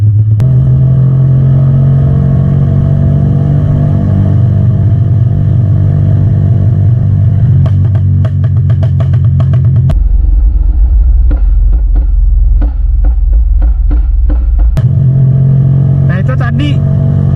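A motorcycle with a tuned BRT Juken 5 ECU and a flame-spitting exhaust idles and revs loudly, with bursts of crackling popping backfires from the exhaust, while a voice talks over it.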